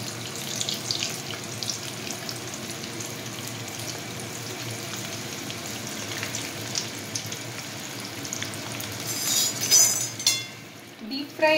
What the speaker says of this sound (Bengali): কড়াইয়ে তেল আমার গরম হয়ে গেছে, আমি একটা একটা করে কাকরোল ছেড়ে দিচ্ছি